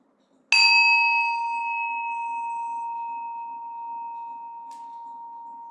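A single meditation bell struck once, ringing out with a clear sustained tone that slowly fades over several seconds, alone in a quiet room.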